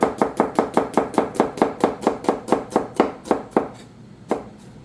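A knife slices a medium onion into very fine slices on a board, about fifteen crisp, evenly spaced cuts in a steady close rhythm, then a pause and one final cut.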